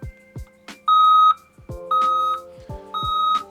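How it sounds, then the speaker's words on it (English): A CBI 5400/5800 machine in tracking mode sounds its alarm: three loud electronic beeps, each held for about half a second, mixed with lower clicks and tones. "the alarm will sound"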